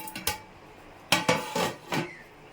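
A metal lid goes onto a pot of mutton biryani with a few sharp clanks and clinks, spaced unevenly over a quiet background.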